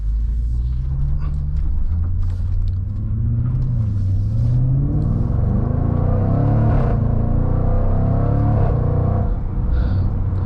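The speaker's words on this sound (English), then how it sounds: "especially with this V8 under the hood" A 2024 Jaguar F-Pace SVR's deep V8 engine rumbles steadily while driving, rising and falling with acceleration, loud and close with no talking.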